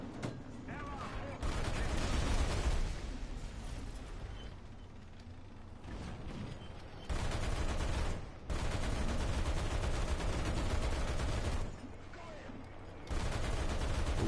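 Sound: gunfire shooting at German aircraft in video game

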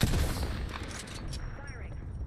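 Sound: gunfire in the video game Apex Legends

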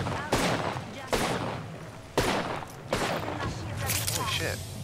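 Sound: gunfire from a weapon in Apex Legends video game

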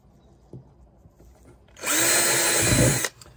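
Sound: power drill drilling holes

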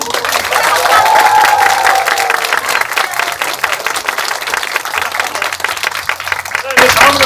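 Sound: theater audience applause at curtain call

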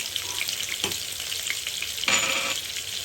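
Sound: garlic frying in a hot pan

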